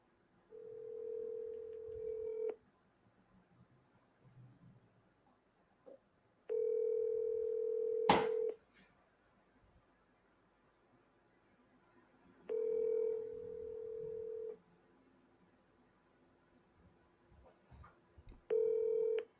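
Telephone ringback tone during an outgoing call, a steady buzzing tone repeating in long evenly spaced bursts with silent gaps between them and a brief click partway through, heard alone without talk.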